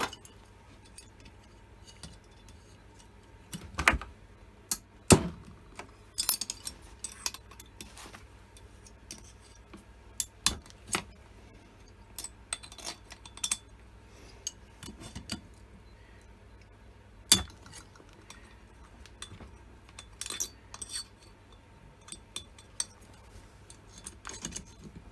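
Cylinder head bolts being cracked loose on a Husqvarna 550XP chainsaw, scattered sharp metallic clicks and tool clinks close by, separated by quiet pauses over a low steady hum.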